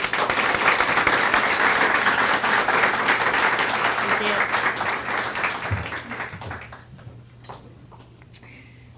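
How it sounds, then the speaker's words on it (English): Loud audience applause fills the room at a mindfulness talk, then thins out and fades toward the end, while a voice speaks briefly. "Can we have a round of applause?"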